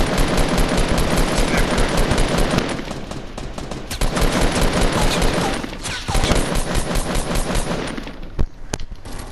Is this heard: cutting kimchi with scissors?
no